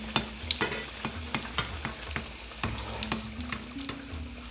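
Beguni, batter-coated fritters, frying in hot oil, with a steady crackling sizzle and regular sharp ticks and pops, close and alone.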